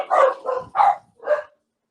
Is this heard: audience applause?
no